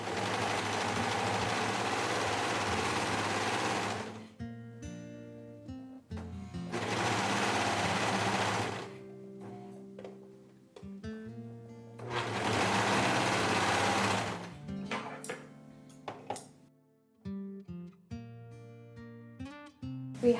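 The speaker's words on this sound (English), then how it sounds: "I'm going to go ahead and serge the hem of the dress and the top" A serger stitches the hem of a full-length dress in three long, steady whirring bursts, with quieter handling and fabric shuffling between runs; close and moderately loud.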